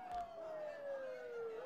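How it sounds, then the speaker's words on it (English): A police siren from the Persona 4 video game wails in a single long, steady tone that glides slowly downward, sounding fairly close and continuous over a faint background. "Don't those sirens sound really close?"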